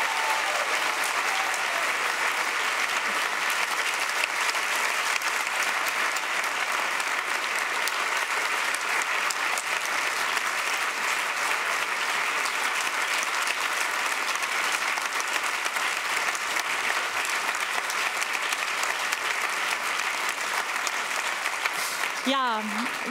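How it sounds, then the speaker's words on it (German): Prolonged audience applause for the ConMedia team at a Baden-Württemberg state parliament event, a dense, even roar of clapping sustained for over twenty seconds before a brief sound at the end. "Also noch einmal bitte einen heftigen Applaus für das ganze Team"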